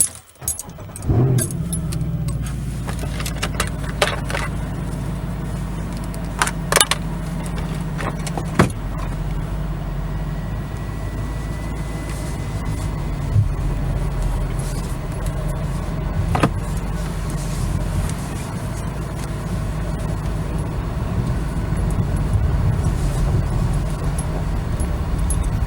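A Mercedes C63 AMG 507 Edition rumbles with a low, steady engine drone from inside the cabin while driving, along with a few sharp clicks and jangling keys early on.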